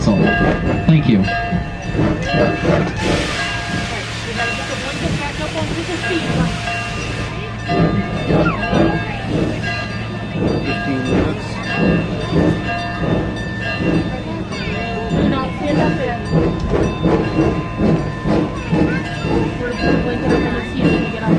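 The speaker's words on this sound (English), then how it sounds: "please remain seated until the train comes to a complete stop" A steam museum train rolls along its rails with steady clickety-clack rhythm and rumbling wheels close by, a whistle-like tone rising briefly early on, while an announcer's voice speaks over the running train.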